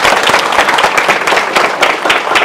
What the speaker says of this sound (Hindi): नारी शक्ति के लिए भी तालियां बजनी चाहिए